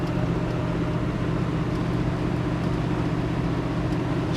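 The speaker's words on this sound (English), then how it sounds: "Inside our Camaro, driving down the road" Interior of a 1969 Chevrolet Camaro cruising down a road: a steady low engine hum and road rumble fill the cabin, even and continuous, with no talk.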